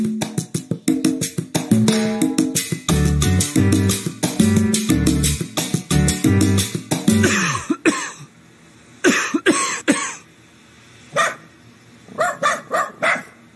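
Coughing and throat-clearing in a Robitussin cold and cough medicine commercial, sharp repeated bursts that start mixed with loud music and then stand alone in an irregular cluster.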